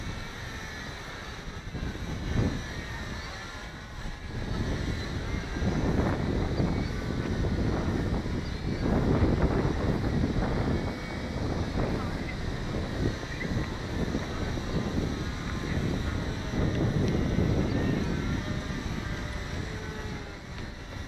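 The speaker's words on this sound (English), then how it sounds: "Oh my god, it's so windy out." Strong wind roars across the microphone outdoors in heavy, surging gusts that rise and fall throughout, with no voices heard.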